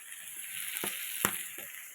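Fish head curry sizzles and fries in a pan with a steady hiss, while a few soft scrapes of stirring come through close by.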